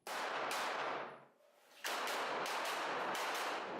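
An HK SP5K 9mm pistol fires a rapid string of loud, close shots at an indoor range, with a brief gap before another quick series of sharp, reverberant cracks.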